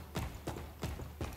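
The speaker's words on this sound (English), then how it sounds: "I can hear his bloody footsteps." Heavy footsteps of a pursuer in the Resident Evil 2 remake, four evenly spaced thudding steps in a steady rhythm, fairly close and moderately loud with no talking.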